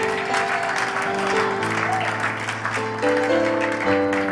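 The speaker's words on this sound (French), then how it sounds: "Est-ce qu'on peut acclamer très bien pour le Seigneur?" A church congregation applauds and cheers for the Lord, a dense, continuous wash of clapping layered over sustained keyboard chords that carries on without a break.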